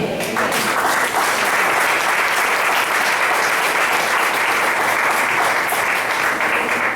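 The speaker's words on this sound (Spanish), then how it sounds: "Denle ese aplauso al Señor." A church congregation applauds, a dense, steady wash of clapping that fills the whole stretch at full volume, with faint voices mixed underneath.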